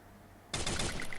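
Gunfire in the Free Fire video game sounds as a sudden, rapid automatic burst after a quiet moment. The shots come as a fast rattle of closely spaced cracks.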